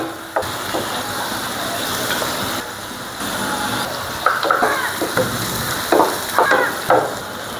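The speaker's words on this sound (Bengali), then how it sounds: "একটু হালকা ভেজে নেব" Prawns sizzle lightly in a pan, a steady frying hiss with occasional scraping stirs and spoon clinks close by, and no talking.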